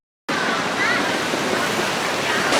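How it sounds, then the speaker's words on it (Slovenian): Water murmuring and splashing at a seaside spot in Rome, a steady broadband wash that starts abruptly and stays loud and close throughout without a break. "Slišiš to žuborenje"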